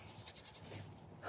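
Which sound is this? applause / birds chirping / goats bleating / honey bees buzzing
goats bleating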